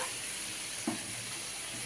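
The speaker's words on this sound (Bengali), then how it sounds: "ততক্ষণে এইদিকে আর মাংসের আলু ভাজাটা হচ্ছে" Potatoes for a mutton curry fry in hot oil, giving a soft, steady sizzle at close range with a single brief stirring scrape midway.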